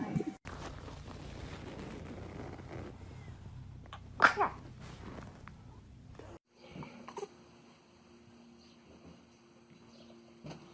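A baby gives one sharp, close sneeze in a quiet room, rising briefly above soft breathing and low background hum.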